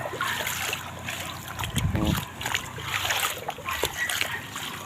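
Water splashes on a flooded street in Calumpit, Bulacan, with a heavier churning splash midway amid steady sloshing, while people talk nearby.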